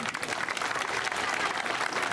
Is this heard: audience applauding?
yes